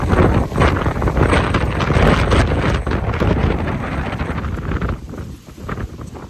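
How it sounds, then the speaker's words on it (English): Strong wind in the mountains buffets the microphone in loud, continuous rumbling gusts that ease off near the end. "It's windy."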